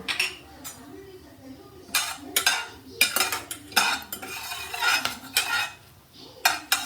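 Whole cardamom, cloves, black pepper and cinnamon stirred in a pan, with metal utensil scrapes and clinks against the cookware in bursts over a soft, faint sizzle, close and fairly quiet.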